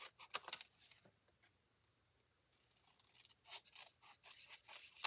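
Faint, close snips and rasping cuts of scissors trimming a paper piece for a scrapbook page, in short irregular bursts with a quiet pause in the middle.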